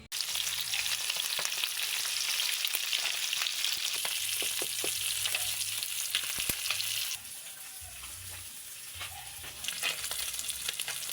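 A third batch of fish fries in a pan, giving a steady hiss and crackle that drops slightly partway through, with scattered clicks and taps of a utensil nearby and no voices.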